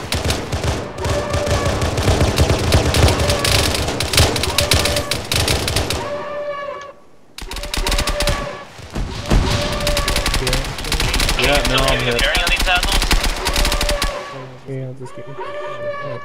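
Rapid bursts of automatic gunfire and weapon fire in the Halo video game, loud and dense, broken by a brief pause near the middle before the shooting resumes, with voices faintly present underneath.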